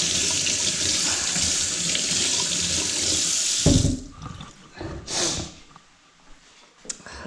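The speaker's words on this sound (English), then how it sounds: "So if you give it a quick rinse." A carrot is rinsed under a running kitchen tap: a steady, close rush of water lasts several seconds, then cuts off, followed by a few light splashes and handling noises.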